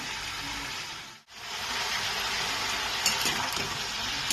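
Papaya shukto vegetables, seasoned with salt, turmeric and a little sugar, fry in a pan with a steady, close sizzle that drops out briefly and then resumes with faint stirring clinks.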